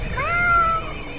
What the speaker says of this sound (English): Broadcast the hypnotic cat video.